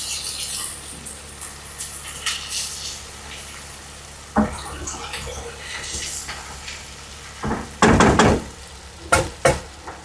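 Onions frying in a pan over low heat, a soft continuous sizzle with occasional knocks and stirring scrapes of a utensil against the pan, growing busier toward the end.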